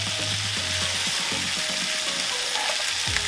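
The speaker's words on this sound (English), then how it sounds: "you can see that bacon has started to crisp up and render" Bacon-wrapped chicken frying on a Weber Baby Q gas grill, a loud, dense, continuous sizzle and crackle of rendering bacon fat close by, with no speech.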